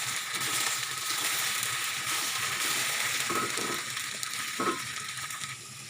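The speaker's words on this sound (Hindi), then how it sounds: "साथ ही इसमें हरी मिर्ची भी डाल देंगे ताकि ये भी फ्राई हो जाए" Okra and green chillies fry in a pan with a soft, steady hiss and faint crackle, a few light clicks of utensil contact near the end, fairly quiet and with no voices.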